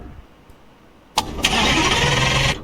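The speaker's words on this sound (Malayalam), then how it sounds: "വണ്ടി സ്റ്റാർട്ട് ആവുന്നേ ഇല്ല കേട്ടോ. സ്റ്റാർട്ടർ വർക്കിംഗ് ആണ്, പക്ഷെ" A car engine cranks from a starter that turns over but will not fire, a loud steady grinding whir that starts abruptly after a quiet stretch with a couple of sharp clicks, then cuts off.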